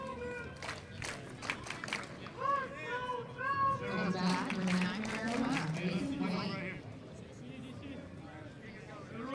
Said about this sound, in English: Crowd alive and well.